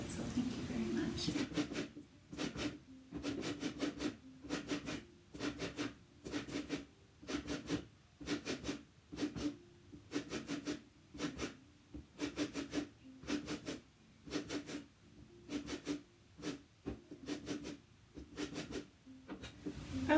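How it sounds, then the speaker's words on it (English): A handheld lemon zester rasps steadily across a lemon's peel, giving about twenty short, even scraping strokes in a regular rhythm, close and fairly quiet, with brief pauses between strokes. "I do really appreciate my lemon zester, and I use it all the time"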